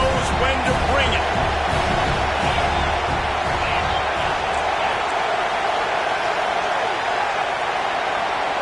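Stadium crowd in a college football video game, NCAA 26, roaring steadily as a broad continuous wash of cheering, louder at first and easing slightly, with a commentator's voice running over it.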